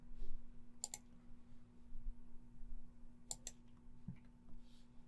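Computer mouse buttons click a few times, sharp and close: a quick double click, another double click a few seconds later, then a faint single tap, all over a low steady hum.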